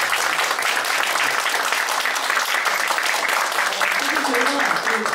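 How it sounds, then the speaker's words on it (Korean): A church congregation applauding, steady dense clapping filling the room throughout, loud and continuous with a faint voice underneath toward the end. "박수로 한 번 더."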